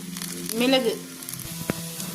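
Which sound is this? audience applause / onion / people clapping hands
onion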